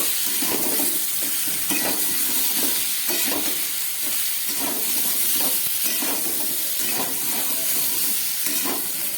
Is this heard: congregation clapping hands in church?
no